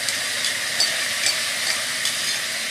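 Dry rice poured into a pot of browned vermicelli for Egyptian koshari, giving a steady broadband sizzling hiss with a few faint scraping ticks, close and alone with no talk.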